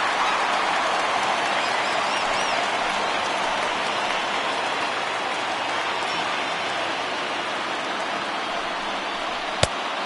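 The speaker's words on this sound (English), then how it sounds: "listen to this crowd now. They are really into this." A baseball stadium crowd roars during a late-inning rally, a dense, steady wash of cheering that holds constant, with one sharp click near the end.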